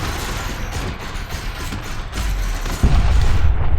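Rapid weapon fire in the space game Elite: Dangerous, a continuous rattling barrage under a low rumble, with a heavier thump near the end, loud and close.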